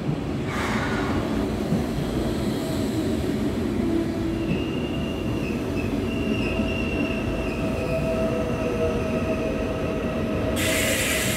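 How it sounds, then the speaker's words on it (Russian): A train rolls steadily past nearby with a continuous rumble, wheels squealing in long sustained tones as it pulls into a railway station in Germany. "А вот прибывает, кстати, поезд."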